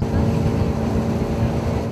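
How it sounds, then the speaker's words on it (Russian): Motorboat engine running on the Angara river, a steady loud low drone with continuous churning and wind noise throughout, close to the microphone. "Испугавшись шума мотора, утята со всех ног бросаются на утек."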